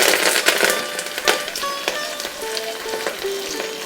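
Curry leaves and cumin powder sizzle loudly in hot oil for jeera rice. The frying is close, with bright crackles and sputters over a constant hiss and a few ringing clinks, and nobody speaks.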